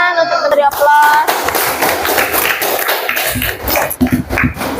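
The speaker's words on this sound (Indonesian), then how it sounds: "Tepuk tangan untuk memberi aplaus." Classroom audience clapping after a group presentation at a teacher-training session, a dense, steady patter of hands filling the room with occasional louder taps and some background voices.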